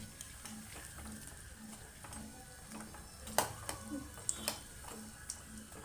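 Bonda snacks frying in hot oil, a faint steady sizzle with light ticking and a few sharper clinks from a utensil against the pan, heard alone with no talking.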